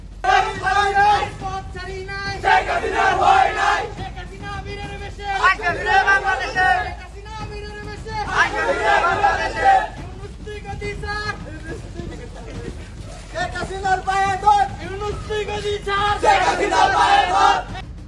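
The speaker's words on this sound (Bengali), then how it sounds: "কিছু যুবক মিছিল করছে দিচ্ছে জোরালো স্লোগান" Young men march and chant loud slogans in repeated rhythmic bursts with brief pauses between them, a dense crowd of voices carrying over street noise.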